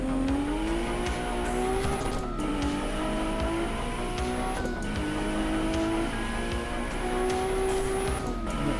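Race car engine in the Assetto Corsa EVO racing game, a sustained loud drone with rising and falling pitch as the car accelerates and shifts gears, plus a faint tire squeal, continuous throughout with no talking.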